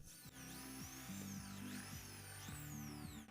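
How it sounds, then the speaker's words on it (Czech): Power drill boring a 10 mm hole through the side of a plastic box, a steady motor whine rising and falling in pitch as the bit bites and eases, close and loud throughout. "Dále je potřeba z boku krabice vyvrtat ještě jeden otvor o průměru 10 mm."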